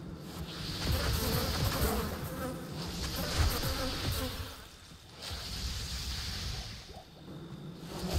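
A swarm of fast bugs in the video game Diablo 2 Resurrected makes a continuous insect-like buzzing drone that swells and fades in waves over game background noise.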